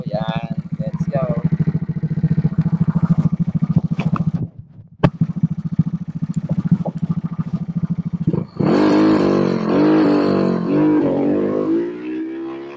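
Motorcycle with a BRT racing CDI on a test drive, its loud, close engine droning steadily, dipping briefly midway, then surging with rising revs as it accelerates.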